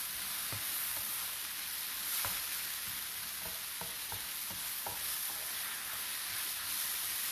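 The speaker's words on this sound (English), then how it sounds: "So I'm just going to stir this around a bit. Can you all see that pretty good in the pan?" Noodles sizzle steadily in a pan with a constant frying hiss, while a utensil scrapes and taps through them in scattered stirring strokes, no voices heard.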